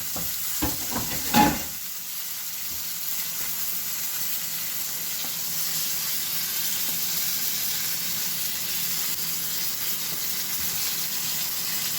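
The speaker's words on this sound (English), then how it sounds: "We're going to let all this cook down together and reduce some more." Chicken marsala sauce simmering and reducing in a pot, giving a steady soft sizzle and hiss that runs on evenly after a few brief clicks of utensils at the start.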